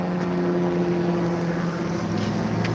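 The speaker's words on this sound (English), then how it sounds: "Y'all hear that helicopter?" Helicopter passing overhead during an outdoor walk, a steady droning rotor hum with a low tonal whine, moderately loud and continuous, with no talking over it.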